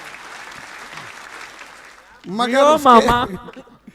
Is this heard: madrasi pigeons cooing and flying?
no